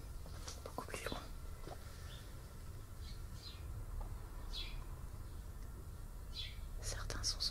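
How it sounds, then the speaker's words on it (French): Faint, distant bird chirps from outside come through sporadically beneath a person speaking in a low, hushed voice in a quiet, muffled cellar. "On entend toujours les oiseaux dehors, mais beaucoup plus loin."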